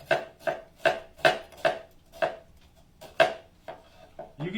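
A knife chops onion on a cutting board in about nine crisp, evenly spaced strikes, close and distinct, followed by softer scraping at the end, with no talking.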